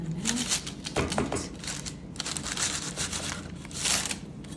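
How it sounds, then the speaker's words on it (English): A knife saws through soft dinner rolls baked as crockpot focaccia, giving close crinkly, crackling crust sounds in short bursts with no talking. "Take a trusty knife, go ahead and cut in the middle."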